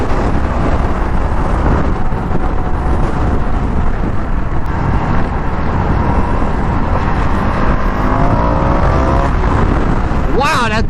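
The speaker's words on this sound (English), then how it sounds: "this semi-truck next to me using its powerful Jake brake" A semi-truck using its Jake brake rumbles steadily beside a moving Indian FTR1200 motorcycle, loud and continuous under heavy wind roar for the whole stretch.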